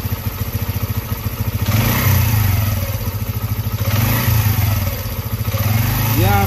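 A motorcycle engine starts and runs with a steady, close, pulsing idle and rises in revs a couple of times during a stator test with a bulb wired into the stator connector; the clatter is continuous throughout.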